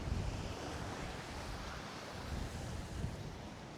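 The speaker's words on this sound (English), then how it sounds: "I just gotta get to a better spot where the wind isn't blowing like crazy" Wind blows hard at a beach, a steady roaring rush with microphone buffeting and the wash of surf beneath it, continuous and with no talk.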